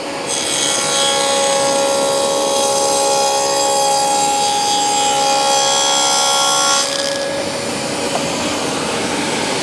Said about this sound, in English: Dusty on, saw on, push it through.